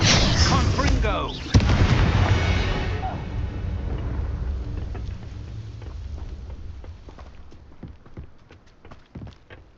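A loud blast from the Confringo explosion spell in Hogwarts Legacy, a sharp opening burst with rumbling debris that fades into scattered smaller impacts and clatter, with a voice calling out during the clip.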